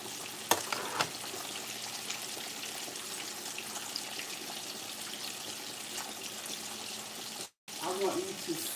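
Fish frying in a skillet gives a steady, dense sizzle close by, with a few soft knocks early on and a brief dropout near the end.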